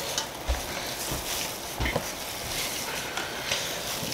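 Onions stirred and mashed in a pot of water for a Christmas Day barbecue meal, giving a continuous wet scraping and sloshing with a few louder knocks, close and alone without speech.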